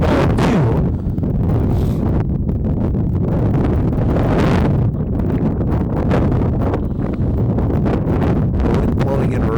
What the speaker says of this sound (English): Wind blowing in really hard right now.